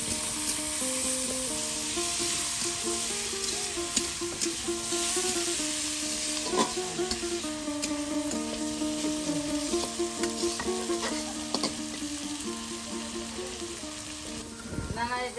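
Onion, garlic and dried fish frying together in a pan, giving a continuous close sizzle with repeated stirring and scraping, while background music plays throughout.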